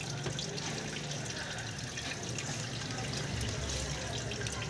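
Water drains steadily out of a full drum during x-ray film silver recovery, a constant rushing, trickling flow that stays even and fairly close throughout with no talking.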